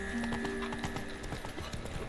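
In The Witcher 3, the horse Roach's hooves clop in a quick, even rhythm of close, distinct thuds, with faint game sounds underneath.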